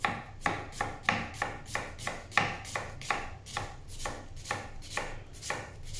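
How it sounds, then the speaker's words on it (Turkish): A knife chops onion on a board in a steady, even rhythm of about a dozen crisp strokes, close and clear with no voices. "Şimdi soğanları ve biberimizi doğrayacağız."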